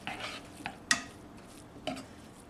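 A spoon stirs a powdery chili mixture loosened with a little hot water, making quiet scraping with two or three sharp clinks against the dish.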